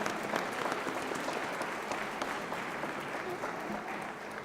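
A symposium audience gives the city aging-office staff a sustained round of applause, even and moderately distant, with faint murmurs beneath the clapping.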